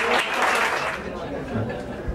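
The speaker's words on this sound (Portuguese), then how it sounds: "uma salva de palmas" An audience at a company event claps in a broad, steady wash of applause that fills the whole moment, with voices talking over it.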